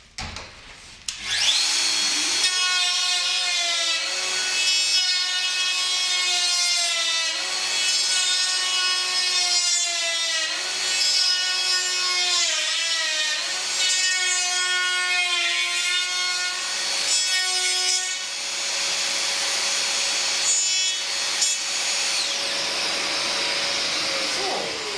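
A router guided by a copy ring along a Festool VS600 dovetail jig cuts single teeth into solid wood, giving a loud, steady, high whine with brief dips in pitch as each cut is made, running almost continuously without talk.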